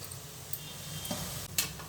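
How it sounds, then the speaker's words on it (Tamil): Chopped tomato, coriander and mint sauté in hot oil for egg biryani in a cooker, giving a soft, low sizzle broken by a few faint stirring clicks. "எல்லாத்தையும் இந்த எண்ணெயில் வதக்கிடலாம்."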